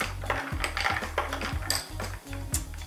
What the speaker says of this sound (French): Et là, on brasse bien.